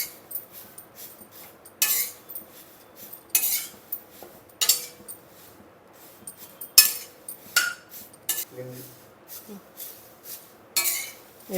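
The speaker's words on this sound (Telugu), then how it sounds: "తర్వాత ఈ దినుసులన్నీ వేపుకుందాం." Spices being stirred in a pan while frying for moringa leaf chili powder: sharp, irregular metallic scrapes and clinks of a spoon against the pan, close and intermittent, with quiet gaps between strokes.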